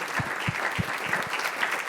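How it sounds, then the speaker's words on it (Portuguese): Church congregation applauding two sisters during a service, a thick, sustained roar of many hands clapping close and loud, with a few low thumps underneath. "Então a igreja dá uma salva de palmas para as irmãs pela coragem delas"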